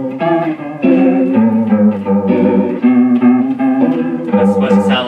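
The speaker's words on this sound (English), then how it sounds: "This one I call it the wobble pedal." An electric guitar played through a wobble pedal gives a warbling, chorus-like tone much like a cheap old 1960s organ, with sustained chords and notes that shift in pitch, loud and alone.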